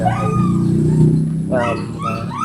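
A farm dog whimpers and yips for affection, close and fairly loud, with whiny vocal sounds running under a person talking.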